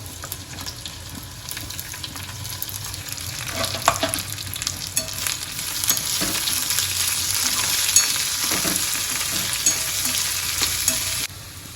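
Cabbage added to softened onions frying in a pan for veg pulao, a steady close sizzle with stirring scrapes that grows a little louder midway, no voices.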